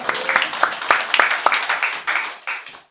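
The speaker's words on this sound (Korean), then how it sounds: "하나님 앞에 먼저 감사의 박수 드리겠습니다" A church congregation claps in thanks to God, sparse uneven hand claps close by that gradually thicken into a loose round and then fade, with faint voices under it.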